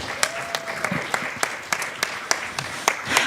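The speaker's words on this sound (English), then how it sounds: "So a big round of applause for them." An audience at a cultural music event claps in thanks to sponsors, a thin, scattered applause with distinct individual claps popping out over a faint background, fairly sparse and moderate in loudness.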